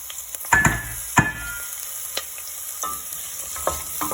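Diced onion sizzles steadily in a hot pan while cooking pork menudo, with a few sharp scrapes and clacks of stirring near the start and again toward the end; no one speaks.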